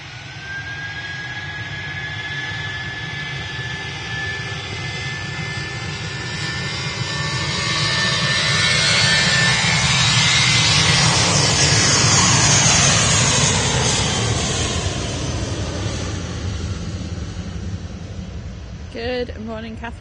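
An RAF Envoy IV aircraft departs close by, its jet engine roar swelling to a loud peak mid-way then easing off as it climbs away, with a rising whine audible early on.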